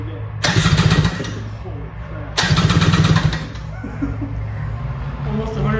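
A 1990 Yamaha WaveRunner engine cranking during a compression test, two loud bursts of rhythmic starter churning, each about a second long, with a gap between them and a voice speaking briefly in between.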